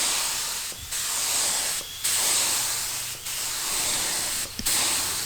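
An aerosol can sprays a coating onto a rusty barrel in long, even hissing bursts, about five passes separated by short gaps, close and steady with no talking.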